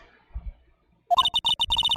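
A phone rings in the Phoenix Wright video game after the last dialed number is called: a quiet dial cue, then a rapid, bright electronic trill of repeated beeps rings out clearly for about a second.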